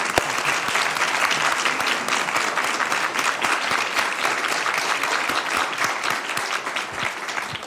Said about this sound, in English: please join in giving a big round of applause and thanking Team Rubicon for their efforts